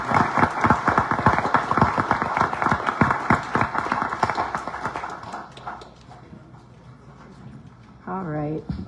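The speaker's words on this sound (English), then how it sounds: "could I ask everybody to give the judge a round of applause?" Audience applause at a township board of commissioners meeting, a dense burst of clapping for a judge that fades after about five seconds, with a voice briefly speaking near the end.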